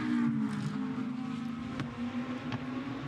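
A GT2 race car on the Misano circuit drives past at speed, a steady engine drone with a tonal whine, fairly distant and moderate in level, with brief sharp shifts along the way.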